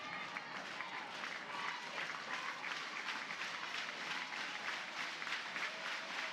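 A stadium crowd at a 2024 NCAA softball regional game between Cleveland State and Oklahoma in Norman, Oklahoma claps and cheers in a steady, dense wash of applause that holds evenly throughout and sounds somewhat distant.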